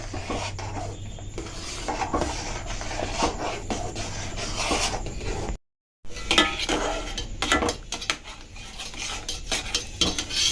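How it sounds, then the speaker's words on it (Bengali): A utensil stirs milk thickened with powdered milk in a pot for muskmelon sherbet, scraping and clinking against the metal in repeated strokes. A brief silent gap falls midway before the stirring resumes, close and without talk. "দুধটাকে ঘন করার জন্যে এটাকে ভালো করে নাড়তে হবে যাতে দুধটা যাতে মিশে যায়"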